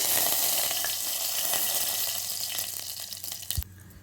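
Cumin, mustard seeds and curry leaves hiss and crackle in hot oil, a steady close-up sizzle that settles toward the end and is cut off by a sharp knock.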